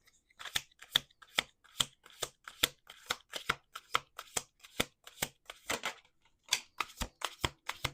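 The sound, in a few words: tarot cards being shuffled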